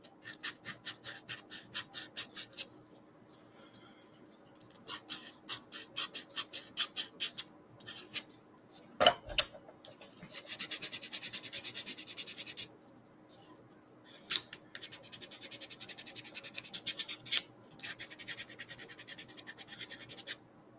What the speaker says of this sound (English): Work on getting this last one sanded down.